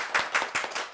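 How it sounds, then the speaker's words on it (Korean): Four quick, evenly spaced hand claps ring out close by at the end of a book talk, crisp and moderately loud. "두 분 선생님들께 박수 먼저 부탁드리겠습니다"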